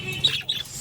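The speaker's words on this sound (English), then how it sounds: "All are Australian parrots." A single short, harsh squawk from Australian parrots, close and moderately loud, lasting under a second against quiet background noise.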